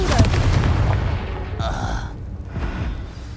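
A Confringo blasting spell goes off in a Harry Potter video game: a loud, broad burst with a low rumble right at the start that decays, followed by a softer whooshing swell, with a voice faintly present.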